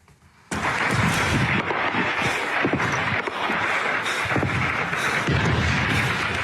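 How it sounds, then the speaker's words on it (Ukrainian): Dense, continuous gunfire and heavy artillery booms near Bakhmut roll on without pause after a brief quiet start, loud and close, with no talking. "Видно наскільки інтенсивна йде стрільба"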